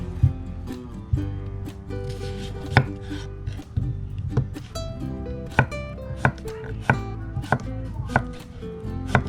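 A knife chops cooked chicken into pieces for Hainanese chicken rice, giving sharp, close, irregular thuds on a board one after another with no talking.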